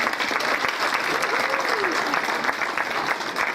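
An audience at Jefferson Jackson Day opening ceremonies applauds Lady Di, a steady loud wash of clapping throughout, with a brief whoop rising in the middle.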